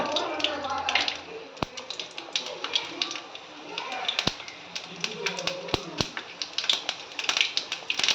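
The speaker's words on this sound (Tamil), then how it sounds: "கடுகு பொரிஞ்சிருச்சு" Mustard seeds and fenugreek pop and crackle in hot oil in a kadai while a fish kuzhambu tempering is started, giving sharp irregular snaps and ticks close by over a sizzling bed, with a person talking throughout.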